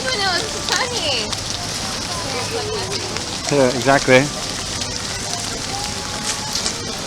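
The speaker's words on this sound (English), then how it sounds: "it's still raining" Rain falling at Disney World on a partly sunny day, a faint steady patter running under people talking, with a brief louder burst of voices midway.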